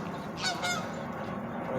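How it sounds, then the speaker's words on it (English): Canada geese honk as they fly overhead, a few short nasal calls heard at moderate distance over a steady outdoor background. "Bunch of geese flying overhead."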